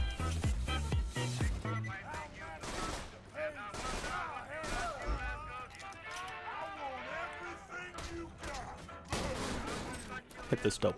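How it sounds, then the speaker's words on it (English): Gunfire from Borderlands 2 with the character Axton, rapid shots and bursts ricocheting amid game music and effects, loud and continuous with heavy reports near the start and end. "Hit this dope ricochet."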